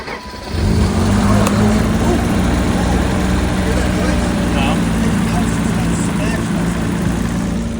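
A 336k-mile BMW E34 M5 barn find, long sitting in flooded woods, cranks and fires on a jump box, then settles into a steady, loud idle with a clutch fan whirring close by.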